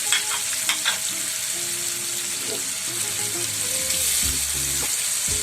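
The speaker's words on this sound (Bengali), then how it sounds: "এগুলোকে ভালো করে ভেজে নিতে হবে" Ginger garlic paste fries in oil with a continuous close sizzle, while utensil clinks and a few tonal kitchen sounds come and go over it.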